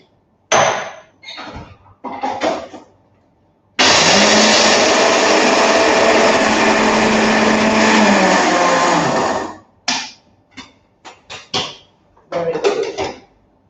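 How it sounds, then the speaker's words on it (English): A kitchen blender purees cashew nuts for soup in one loud, steady whir of about six seconds, set between clattering handling knocks and brief bursts of other kitchen noise. "I'm going to blend this with the aid of my blender"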